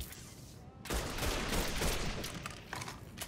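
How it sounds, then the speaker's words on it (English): In Mafia 3, an automatic rifle fires a sustained rattling burst, loud and dense for a couple of seconds, then trails off into scattered shots. "Must be some sort of automatic rifle or something."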